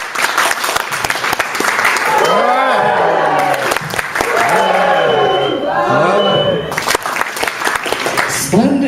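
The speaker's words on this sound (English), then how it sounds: "This side of the room, when I raise this hand, I want you to clap." Audience in a room clapping and hollering on cue, a dense sustained wash of applause mixed with shouts and screams, loud and continuous with a brief lull before swelling again.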